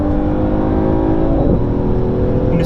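Mercedes AMG GT 43, chiptuned to 470 PS and 620 Nm, held at full throttle, its engine giving a steady, loud, dense drone that holds throughout with a slight shift in pitch partway through.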